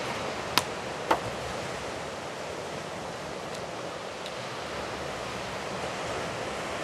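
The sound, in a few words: waves of Lake Michigan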